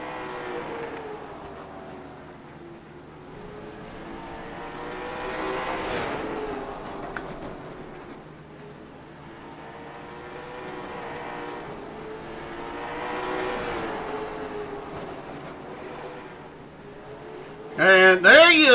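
Race cars run laps at Slinger Speedway during the Jones BS New Years Bash, engines swelling and fading as they pass at a steady distance, with a commentator talking over them and a sharp burst of noise at the very end.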